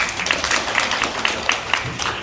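Applause at a national agricultural policy forum in the National Assembly welcoming a presenter: a steady patter of clapping from a seated audience, moderately loud, lasting a couple of seconds with no speech over it.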